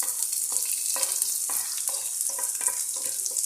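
Onion and plenty of garlic sizzle steadily in a hot pan for kangkong adobo, close and fairly loud, with a few soft stirring scrapes breaking through the constant hiss.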